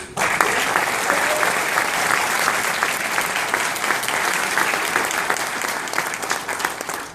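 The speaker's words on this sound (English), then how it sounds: "So I'd like to give you all a round of applause." A crowd claps loudly and continuously for several seconds, a dense patter of many hands that tapers slightly at the end.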